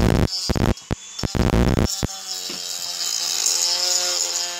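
A rotary tool on its lowest speed grinds the plastic bezel of a Suzuki GT550 speedometer, opening with several loud, choppy bursts before settling into a steady, close motor whine with a faint grinding edge.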